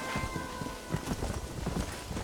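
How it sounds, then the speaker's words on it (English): Horse hooves clip-clop in a steady walking rhythm in the Red Dead Redemption video game, moderately close over a low ambient game backdrop. "My horse is named Roach."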